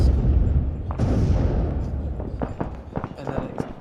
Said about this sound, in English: you hear another kind of dull explosion off in the distance